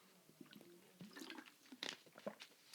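Someone takes a sip of water close to a microphone, with faint, soft wet gulping and mouth sounds in a few short, quiet bursts.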